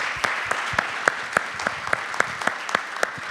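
Conference panel audience applauding, a dense wash of many hands clapping with sharper individual claps popping out at a loose, fairly regular rhythm, sustained and fairly close.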